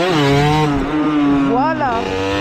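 A 50cc motorcycle engine revs high and wavers during wheelies, a loud continuous whine rising and falling close by, with a voice talking over it.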